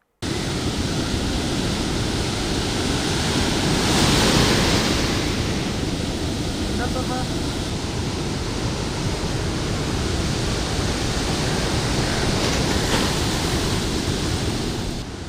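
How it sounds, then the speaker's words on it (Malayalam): Rough, surging sea lashed by strong wind and rain on the coast at Koottayi Padinjarekkara, a loud, unbroken roar of crashing surf and wind with no voices. "ശക്തമായ കാറ്റിലും മഴയിലുമാണ് കൂട്ടായി പടിഞ്ഞാറേക്കര ഭാഗങ്ങളിൽ കടൽക്ഷോഭം രൂക്ഷമായത്"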